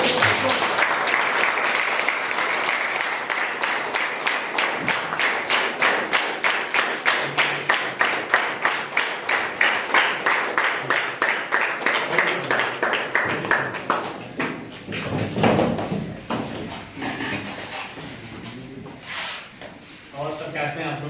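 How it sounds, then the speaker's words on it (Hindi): A seminar audience at a health awareness program gives a long, loud round of applause, rhythmic clapping sustained throughout with a voice speaking over it toward the end. "एक जबरदस्त ताली होनी चाहिए"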